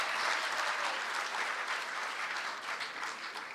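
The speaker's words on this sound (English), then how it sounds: "Can we please have a huge round of applause for all our guests" Big, steady audience applause at a product launch event in India, a dense, even wash of many hands clapping together at close range throughout, with no voices over it.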